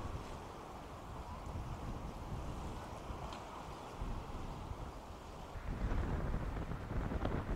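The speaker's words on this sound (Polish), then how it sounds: "To, co jest niezmienne dla nas na Rugi, to wiatr." Strong wind buffets the microphone steadily on a wooden pier at Binz on Rügen, a loud continuous roar that swells louder toward the end, with faint water or surf beneath.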